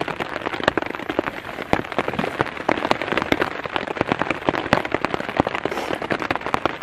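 Autumn rain falling steadily in a forest nearby, dense irregular patter of drops with occasional louder hits, no voices.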